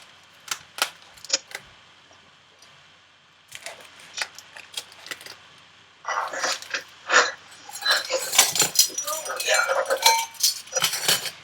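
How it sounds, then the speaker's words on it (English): Eggs, milk, oil and sugar are whisked in a bowl, giving rapid, dense metallic clicking that builds louder toward the end. Speech is heard alongside the whisking. "we're going to add sugar into our wet bowl and whisk those up"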